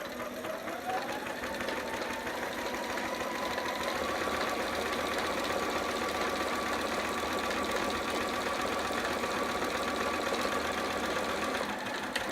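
A sewing machine runs steadily up close as it back stitches the hem of a romper, a continuous even whirring hum with a quick stop near the end and no talking.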